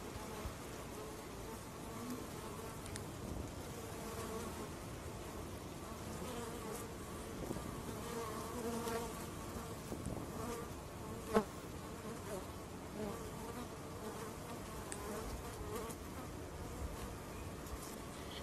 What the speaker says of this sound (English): They fly at a speed of around 25 kilometers per hour and beat their wings 200 times per second.